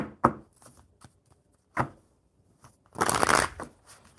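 A deck of cards gets a few quick taps and slaps, then a longer, louder riffle shuffle close to the microphone, with near silence in between.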